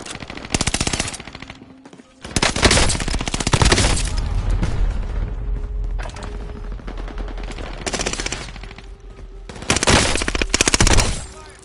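Gunfire in the video game Warzone, loud bursts of rapid automatic fire coming in several long volleys with brief lulls between them, close and dominant, with no talk.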